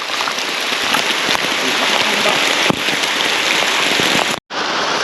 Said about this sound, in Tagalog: Basa na tayo ng ulan.